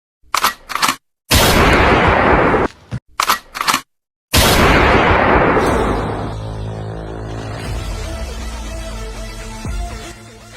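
Cartoon gunfire sound effects: two quick bursts of sharp loud shots, each followed by a heavy booming blast, the last one ringing out and fading over several seconds.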